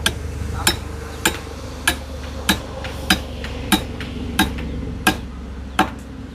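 A hammer strikes a wooden house post in steady, evenly spaced blows, about eleven sharp knocks at roughly half-second intervals, close and distinct over a low background rumble.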